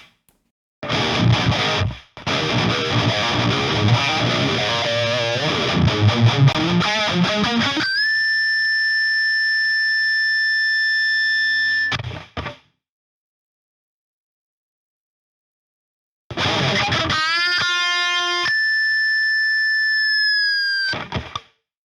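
High-gain electric guitar through a 5150 amp plugin on the yellow block-letter channel with a noise gate: dense chugging riffs, then long sustained high notes and bends, cut off by the gate into silence before a final burst of ringing lead notes.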